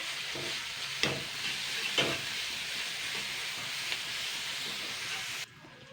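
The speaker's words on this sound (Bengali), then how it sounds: "এবার আমি ধুয়ে রাখা যে মাছের তেলটা সেটা আমি দিয়ে দেবো" Garlic and ginger paste frying in oil, a steady hissing sizzle with a couple of sharp stirring scrapes, close and fairly even until it cuts off near the end.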